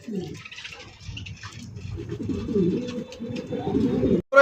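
Pigeons coo repeatedly up close in a busy loft or market, low throaty calls rolling one after another and growing louder toward the end.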